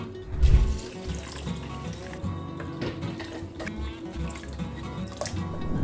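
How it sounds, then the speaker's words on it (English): Water runs into a cooking pot of red beans as a steady pouring, splashing flow, with a louder gush at the start and then a continuous trickle. "I'm going to add some water to it and then add all my seasoning."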